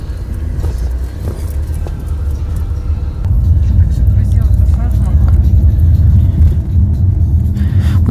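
A car drives along a road past a village in South Korea, producing a steady, close low rumble of engine and tyres that swells slightly louder partway through and continues without a break.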